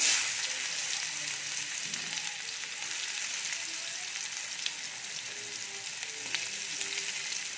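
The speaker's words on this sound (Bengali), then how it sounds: "আর এই কড়াইয়ে তেল গরম হয়ে গেছে, কুচিয়ে রাখা পেঁয়াজ দিয়ে দেব।" Chopped onion frying in hot oil in a wok gives a loud, steady sizzle that fills the whole stretch without pause, with no talking over it.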